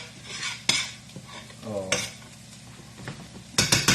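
Garlic cooking in a pan for a cream sauce, a soft continuous sizzle under repeated clinks and scrapes of a utensil against the pan, close and clear, with no one talking.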